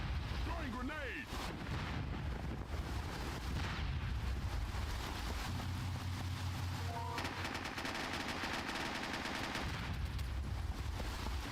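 Gunfire rattles in sustained automatic bursts with heavy explosions during a SOCOM II online match, loud and continuous across the whole stretch, with a grenade blast rumbling in the mix and brief voice-like radio chatter in the background.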